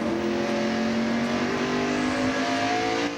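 NASCAR stock cars racing at the 1996 Tyson Holly Farms 400, a loud sustained engine roar with rising harmonic whine as cars run nose to tail, steady and close throughout before cutting off at the end.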